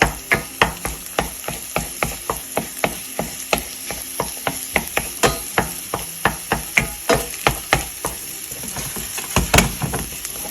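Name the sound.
scrambled eggs being moved about with a spoon in a buttered pan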